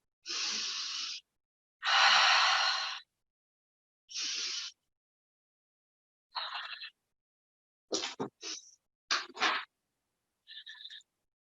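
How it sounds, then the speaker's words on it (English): Three deep clearing breaths close a yoga practice, each a long, breathy inhale and exhale heard up close, followed by a few softer, broken breathing sounds and faint rustles, with no talking. "we're going to end with our 3 clearing breaths"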